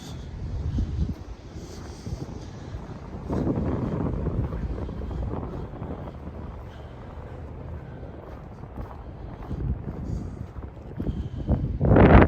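Gusty wind buffets the microphone downtown near a lake in winter, a rough low rumble that swells and fades in uneven waves, strongest in a surge toward the end.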